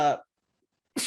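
A single sharp sneeze bursts out at the very end after a short silence, with a voice trailing off just before it.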